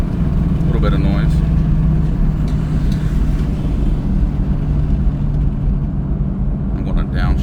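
Ford Mustang Dark Horse V8 fitted with a Corsa Xtreme exhaust in normal mode, holding a steady, loud low rumble throughout with a faint voice over it.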